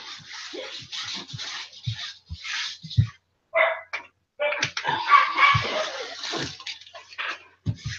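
A dog barks in short bursts at irregular intervals against a mix of splashing, running water and rustling, fairly close and moderately loud.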